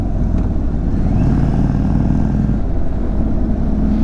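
A 2022 Indian Chief Dark Horse motorcycle rides in sport mode, its engine a loud, steady low rumble that holds close and constant throughout, with no voices over it.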